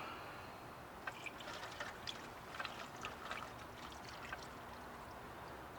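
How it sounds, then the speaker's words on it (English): Water pours into the drip pan of a kamado grill during Thanksgiving turkey prep: a faint, brief splashing trickle over a quiet background, with no talking. "Then I'm going to add my water to it."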